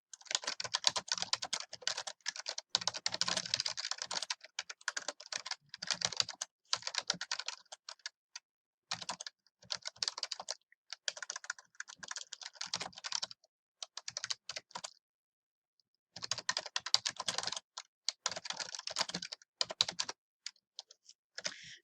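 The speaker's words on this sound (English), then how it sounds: "We've got a little bit more typing to do." Typing on a computer keyboard while writing a research paper in a word processor: long runs of quick, close key clicks in uneven bursts, broken by short pauses, with no talking.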